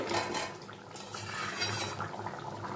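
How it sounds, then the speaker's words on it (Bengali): Curry broth with elephant foot yam bubbling and simmering in an uncovered pot, a steady close wet bubbling with faint clinks of pot or utensil, no voices. "দেখুন ঝোলটা আমার খুব ভালো করে ফুটে গেছে।"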